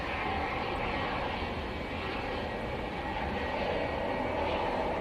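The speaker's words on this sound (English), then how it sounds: "So the ATR has just landed." An ATR turboprop airliner that has just landed at Manchester Airport gives a steady, loud broadband engine roar with propeller drone, heard close and continuous with no talking.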